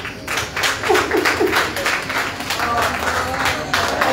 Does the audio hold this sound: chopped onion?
no